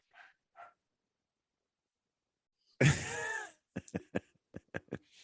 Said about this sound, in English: then you hear my dog in the back.